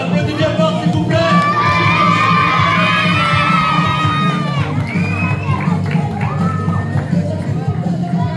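A lively crowd at the Japan Mania 2025 cosplay contest cheers, whoops and shouts for the winner at the awards ceremony, with high-pitched cries and sustained clapping filling the hall.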